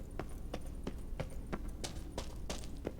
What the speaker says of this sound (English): Hey, our horses found us.